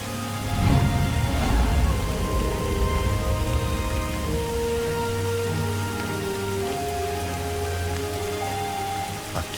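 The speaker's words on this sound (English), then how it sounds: "As he sat, the rain fell constantly." Steady rain falls continuously on a surface, a dense even patter with scattered drops and a low rumble beneath, holding at a constant moderate level with no voices.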